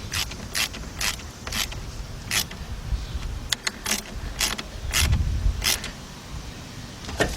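A battery terminal being tightened on a 1992 Ford Ranger, a rapid series of sharp metallic ratchet clicks and creaks, irregular and close up, with small pauses between bursts.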